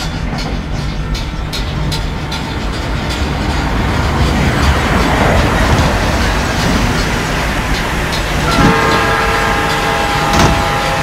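Amtrak American Bullet Train in the Trainz 2019 simulator, a continuous loud rumble of the train running with rail clatter, then a sustained multi-tone horn blast near the end.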